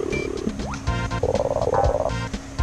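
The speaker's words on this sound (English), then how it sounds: "Oh, that damn frog again." A frog croaks in the SNES game Super Mario World 2: Yoshi's Island, heard as loud repeated rhythmic croaking over busy game music and sound effects, with no talking.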